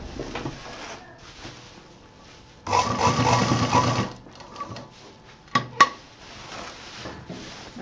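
A sewing machine stitches a strap onto a medium-size tour bag in one loud burst of about a second and a half, framed by quieter handling and rustling.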